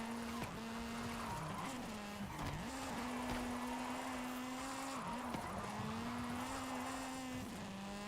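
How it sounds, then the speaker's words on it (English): A car drifts in a video game, its engine holding a steady, loud drone with repeated brief dips and surges as the throttle lifts and catches. There are no voices. "we're gonna try to get some speed to do some proper drifts"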